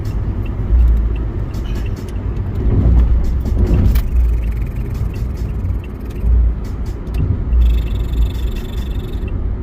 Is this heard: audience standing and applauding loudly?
no